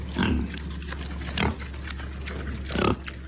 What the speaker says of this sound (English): he has pet pigs and yet he also takes them to slaughter